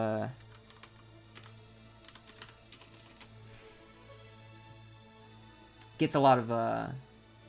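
Typing on a computer keyboard during a stream: scattered sharp key clicks, close and fairly quiet, spread across the clip over a low steady hum, with a person speaking briefly near the end.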